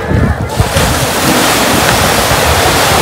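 Sea waves washing onto a beach, a loud, continuous broadband roar with wind buffeting the microphone and brief voices under it.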